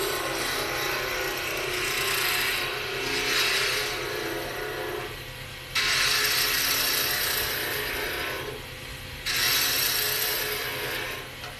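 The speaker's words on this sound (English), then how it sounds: "Because I'm using a planing cut, and I'm making this very, very smooth." A skew chisel taking a smooth planing cut on a wood spindle turning on a lathe: a continuous close whirring rasp that swells and drops in three long passes with brief breaks between.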